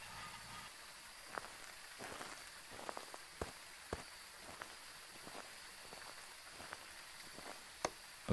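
Steady rain patters over a campsite in the ghost-hunting game Phasmophobia, a soft continuous hiss broken by scattered sharper drops and taps, with no one speaking.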